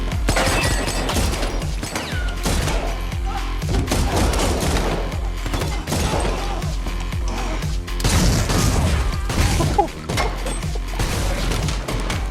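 Gunfire crackles from a John Wick Chapter 4 action scene, dense rapid shots and bursts over a booming score with crashes and thuds, loud and continuous throughout.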